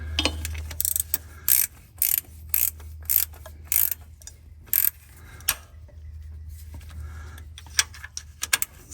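A hand ratchet tightens a bolt on the 8L90 transmission of a 2015 Cadillac Escalade, giving a run of sharp, close metallic clicking bursts in an uneven rhythm over a low steady hum, with no talking.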